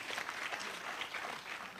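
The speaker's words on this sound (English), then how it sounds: "Please give them another clap." An audience applauds family members at a memorial celebration in Nyeri, Kianjoya, a faint, steady patter of clapping from a crowd at a distance.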